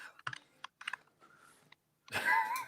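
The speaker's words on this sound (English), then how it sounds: "Can you hear somebody typing?" A short flurry of keyboard typing with close, clicky keystrokes in small bursts, followed by a brief louder noise.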